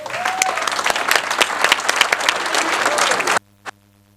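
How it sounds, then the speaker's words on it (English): Audience at a school board meeting gives a big round of applause for coaches and parents, steady dense clapping for over three seconds that stops abruptly, followed by one last lone clap. "we'll give you one big last round of applause"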